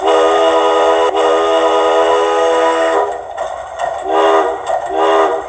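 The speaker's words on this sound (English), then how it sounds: "Short horn." Sound of an Athearn Genesis 2-8-2 model locomotive DCC decoder: a loud sustained horn blast followed by a few short horn toots, close and clear.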